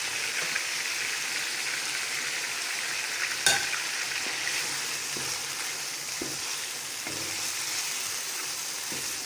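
Chicken pieces sizzle and fry in a pan with ginger, garlic and green chili paste for a desi aloo gosht, a steady loud crackle broken by occasional scrapes of a stirring spoon, with no talking.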